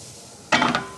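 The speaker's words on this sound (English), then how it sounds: "Listen to that sizzle." A sudden burst of hissing sizzle starts halfway through, loud and crackling, as cat food hits a hot pan, following quiet kitchen background.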